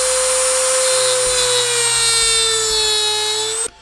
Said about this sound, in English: my recommendation is that you use a small rotary cutting tool like a Dremel